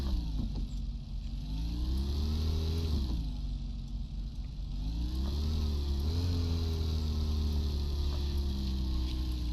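A car driven in the Car Dealer Simulator video game hums with a steady mid-pitched engine drone, rising and falling gently in pitch as it moves and revs slightly, with no talking.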